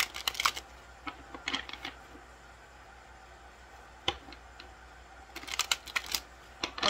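Tarot cards being shuffled by hand, several quiet bursts of rapid riffling and flicking separated by near-silent pauses.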